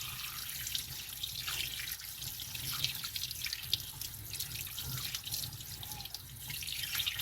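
Tap water runs steadily into a sink while a cleaned trout is rinsed under it, a continuous close splashing and dribbling with no talk.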